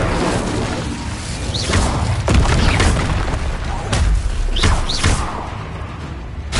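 An Incendio fire spell cast in the video game Hogwarts Legacy, loud booming fiery bursts and whooshes layered with dense battle noise and voice-like calls, several heavy impacts in quick succession.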